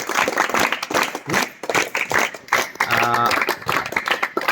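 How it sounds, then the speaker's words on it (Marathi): A classroom group claps for a student named Ankita after she presents English tenses, a brief burst of scattered hand claps with some voices mixed in, close and moderately loud. "आपण जोरदार टाळ्या वाजवू अंकितासाठी"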